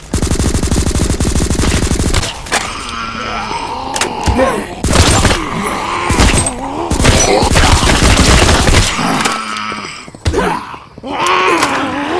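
Rapid automatic gunfire rattles loudly in the zombie video game Deathly Stillness, in long continuous bursts broken by short pauses, mixed with monster groans and moans.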